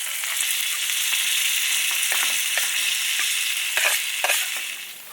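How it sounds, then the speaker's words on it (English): Shallots sizzling in a pan alongside steak on a stove inside a hot tent during snowy winter camping, giving a steady, close frying hiss broken by a few sharp crackles and pops. "Throw some shallots down in there with it."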